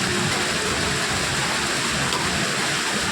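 Steady, dense summer rain falls on an evening in a Kerala village, a continuous close hiss with no pauses or voices.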